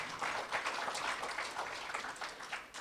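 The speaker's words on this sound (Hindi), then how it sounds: "तालियां बनती है एक बार फिर।" Applause from an audience, a steady wash of many hands clapping throughout, moderately loud with no talking over it.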